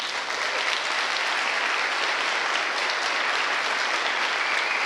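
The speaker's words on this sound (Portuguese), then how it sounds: "Uma salva de palmas para vocês." Congregation in a church bursts into sustained, dense applause, a loud even roar of many hands clapping throughout with no pauses.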